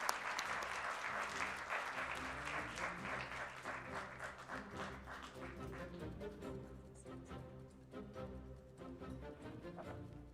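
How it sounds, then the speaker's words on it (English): Applause from an audience at a conference session on Africa's growth and Japan in Morocco, strong at first and gradually thinning into separate claps as a speaker's voice comes in. "Let's give him a round of applause, please"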